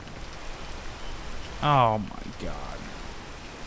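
Continuous rain hisses in the background of the video game PEAK while a man briefly exclaims partway through, the downpour steady and unbroken before and after his voice.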